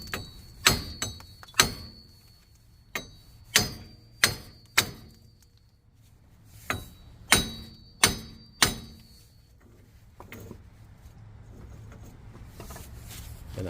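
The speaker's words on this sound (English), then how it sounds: "So now I'm gonna hit it with a hammer a few times, and I'm not hitting the studs, I'm just hitting this piece." Steel hammer striking the front wheel hub of a Nissan Frontier pickup during wheel bearing removal: about a dozen sharp, ringing metallic blows in uneven clusters, each decaying quickly, with quiet gaps and faint shuffling between them.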